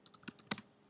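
A short burst of typing on a computer keyboard, several quick soft key taps in an uneven cluster, close but quiet with no voices.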